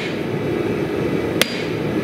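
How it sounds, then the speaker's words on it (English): A single sharp hand-hammer strike rings out on a knife blade at an anvil while setting a plunge line in forging, a brief metallic impact over a steady background hiss. "We'll now set our plunge line, so to speak, which is difficult to do with a hand hammer."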